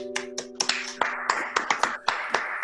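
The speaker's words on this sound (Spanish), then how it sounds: "Vamos a pedir un fuerte aplauso para el nuevo profesionista virtual." A few people clap for a new graduate at a virtual graduation ceremony, sparse sharp claps arriving unevenly and close-up, with a brief tone at the start.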